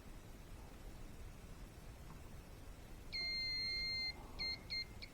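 A multimeter sounds sharp electronic continuity beeps while the probes test the wiring of a Chevrolet Volt Gen1 keyless door button: one sustained tone about a second long, followed by two or three short beeps, over quiet room hiss.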